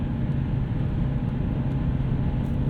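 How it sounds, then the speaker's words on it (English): Road noise inside a 1998 Lexus GS 400 with an exhaust leak, a steady low rumbling cabin drone with faint wind hiss, constant and even with no voices. "Road noises."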